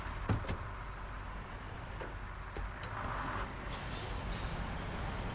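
A heavily loaded truck with a trailer, stuck in a river in the SnowRunner video game, gives a continuous low engine rumble with a few sharp hissing bursts, like air brakes or water spray, steady and fairly loud, with no talking.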